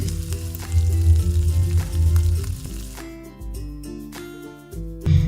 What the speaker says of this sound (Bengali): এখানে আমি নাস্তাগুলো উল্টে পাল্টে ভেজে নিয়েছি।